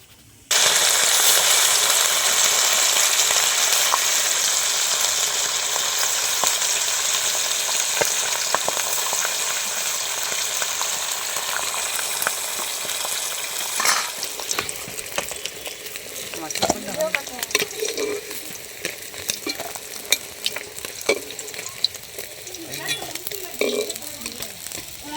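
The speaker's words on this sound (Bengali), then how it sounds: "বাকি যে মাছটা আছে আমি একই রকম করে ভেজে নিচ্ছি।" Rui fish pieces fry in hot oil, giving a steady loud sizzle throughout with scattered clicks and scrapes of a spatula toward the end.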